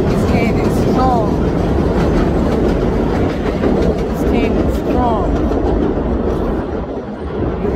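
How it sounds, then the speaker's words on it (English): A loud train rolls past close by, its wheels clattering and rumbling continuously, with a few brief squeals over the roar. "train was kind of loud"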